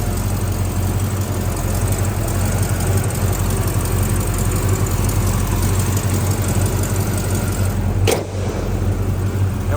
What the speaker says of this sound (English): Motor runs perfect. Sitting there real still, no misfires, no nothing.